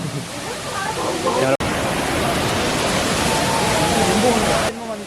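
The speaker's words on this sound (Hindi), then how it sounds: "वहाँ वाटरफॉल है, छींटे यहाँ तक आ रही है" A waterfall at Chakrata, Uttarakhand pours in a loud, steady roar of crashing water heard nearby, with a brief dropout, while a person speaks over it.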